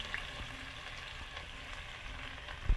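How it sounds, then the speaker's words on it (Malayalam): Mustard seeds and sliced onion frying in hot oil for a chicken curry, giving a soft, steady sizzle and faint crackle close by, with a brief clatter near the end. "കടുക് പൊട്ടി വരുമ്പോൾ അതിലേക്ക് സവാള ചേർത്ത് കൊടുക്കുക"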